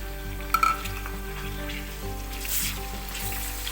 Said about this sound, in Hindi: अब मैं इसमें टमाटर ऐड कर दूंगी।